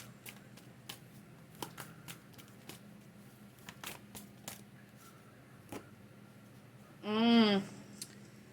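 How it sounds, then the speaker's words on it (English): Emotion cards are shuffled and pulled in a quiet room, giving soft scattered flicks and taps, faint and close, followed by a brief louder rustle near the end. "I'm going to pull an emotion card"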